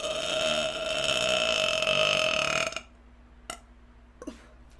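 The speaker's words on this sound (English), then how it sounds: "Who is not clipping these burps?" A long, loud, drawn-out human burp sustained for nearly three seconds, followed by near silence with a couple of faint clicks and knocks.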